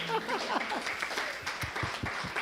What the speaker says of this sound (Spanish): Vamos a darle el tercer aplauso a él.